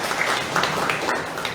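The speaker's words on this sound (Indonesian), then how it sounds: "Yang mengerti, tepuk tangan buat Tuhan." A church congregation breaks into brief applause, a dense burst of many hands clapping together that fills the room at moderate loudness for a moment.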